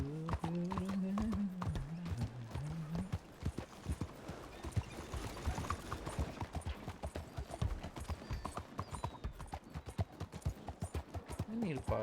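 Horse hooves clip-clop in a steady trotting rhythm in a video game, close and clear, while a voice talks over the first few seconds.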